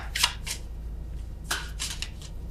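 Tarot cards shuffled by hand during a reading, two short bursts of riffling and flicking close up against a low steady background hum.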